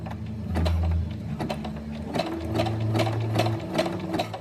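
A sewing machine runs a zigzag stitch attaching elastic to bra fabric, whirring continuously at close range with shifting motor pitch and a rapid needle patter for over four seconds.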